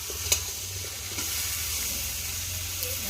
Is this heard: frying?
yes